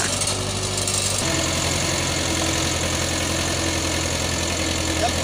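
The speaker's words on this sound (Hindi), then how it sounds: "ये हमारा पुश्तैनी ट्रैक्टर" An International tractor more than fifty years old pulls a plough through a field, its engine running with a steady, loud, throbbing low-pitched rumble and a rough knocking texture, close by.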